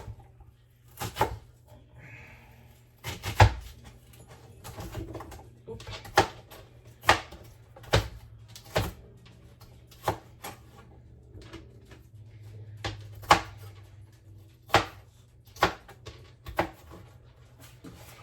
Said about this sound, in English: we're just going to chop them.